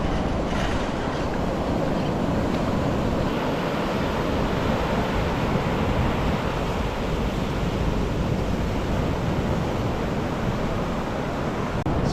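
Ocean waves roll onto St Pete Beach after Hurricane Idalia in a steady, loud wash of surf mixed with heavy wind buffeting the microphone, with no let-up throughout.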